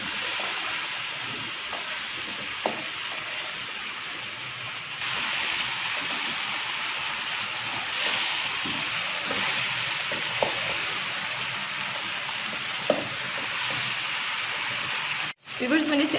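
Large beef pieces for nihari sear on a high flame with a constant hissing sizzle. Faint stirring clinks come through now and then.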